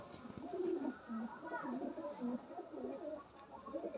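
Fulsira Madrasi pigeons coo in a loft, soft repeated throaty calls rising and falling throughout, with faint background murmur.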